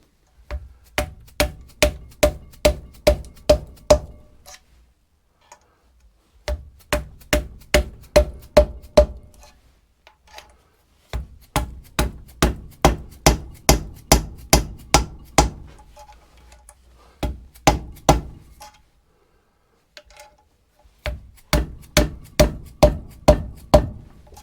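Upgraded inlet valve stem seals being tapped into place on a 2.8 Opel CIH cylinder head, heard as several bursts of rapid, sharp metallic taps, each series building in force until the seal bottoms out, with brief pauses between bursts.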